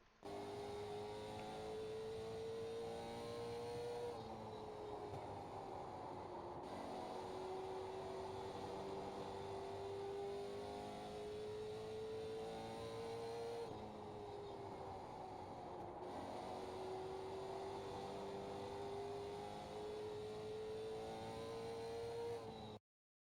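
A late model stock car circling North Wilkesboro in a racing video game, its engine droning steadily for a full lap with rising pitch down the straights and dips into the corners, loud and continuous with no talk.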